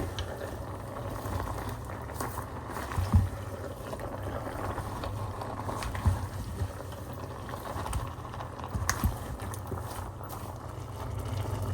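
Hilsa fish head and trimmings cook with bottle gourd greens in a pot, giving a steady, close bubbling simmer with a few soft knocks from stirring and no voices.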